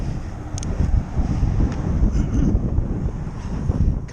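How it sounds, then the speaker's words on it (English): Heavy wind buffets the microphone while cycling on a scorching summer day, a loud, continuous low roar that rises and falls in gusts. "quite windy actually"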